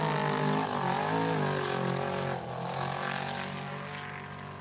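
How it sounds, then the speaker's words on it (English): Helicopter flying over a river boat race, a steady droning engine and rotor sound that fades slightly partway through, heard at moderate distance. "we do have a chopper flying around"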